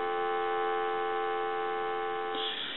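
Steady, quiet telephone dial tone from a Radio Shack Continental 43-330 handset, a continuous hum-like tone held unchanged throughout, with a faint click near the end.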